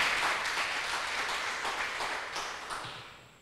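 Prayer group congregation in Santiago, Dominican Republic, breaks into dense applause that starts strong and slowly fades over a few seconds, a soft continuous wash of many hands without clear individual claps.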